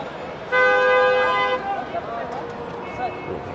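Car horns honk on a crowded road near the Haram in Mecca, one long sustained blast followed by shorter toots over steady traffic rumble and crowd murmur, with voices talking nearby.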